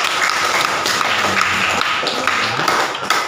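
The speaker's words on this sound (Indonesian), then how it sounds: "Tepuk tangan untuk Mas Dio." Classroom applause for a student, a short burst of clapping with sharp taps and hand claps, loud and close, with no speech over it.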